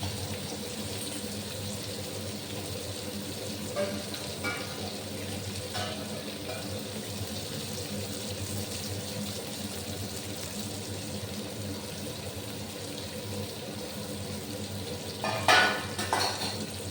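Potatoes and pointed gourd frying in a pan, giving a steady low sizzle throughout, with a few faint clinks of utensils near the end.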